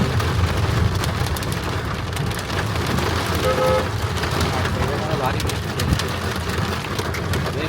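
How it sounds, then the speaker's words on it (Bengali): Heavy rain pours down near a small roadside tea and pakora shop in Jhargram, a constant loud hiss of drops on surfaces with a low rumble underneath and voices chattering faintly through it. "ভারী বৃষ્টি হচ্ছে।"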